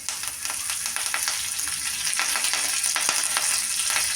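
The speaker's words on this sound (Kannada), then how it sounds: "ಸ್ಪೂನಷ್ಟು ಸಾಸಿವೆ ಸಾಸಿವೆ ಚಟಾಪಟ ಅನ್ನತ್ತೆ" Hot oil sizzles steadily with a dense scatter of sharp pops and crackles from mustard seeds spitting in the pan, close up and continuous.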